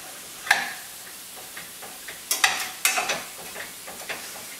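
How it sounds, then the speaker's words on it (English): Ground beef browning in a pan as it is broken up, with soft sizzling and intermittent scraping and stirring clicks from a utensil. "And you can already hear it starting to sizzle."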